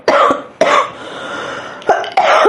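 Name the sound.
coughing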